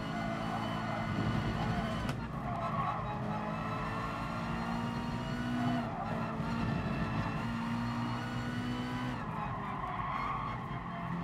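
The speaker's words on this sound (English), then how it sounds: "Oh, understeer." Race car tires squealing and skidding through understeer in GT Sport, a Gr.2 car on the final lap of an online lobby race, a steady loud engine drone with a sustained tonal squeal running throughout.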